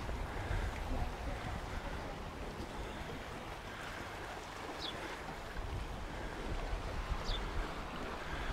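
Steady wash of ocean surf with wind rumble at Camp de Mar, Mallorca, in the evening, continuous and fairly distant, no distinct voices.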